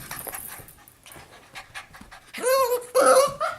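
Two Cavapoo puppies pant close up, quick breathy puffs building louder toward the end, broken by a few brief whimpery, squeaky vocal sounds in the last second.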